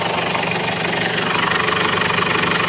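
A Ford Everest engine running with low power from a MAP or MAF sensor fault, a close, loud, steady idle with a continuous knocking rumble and no talk.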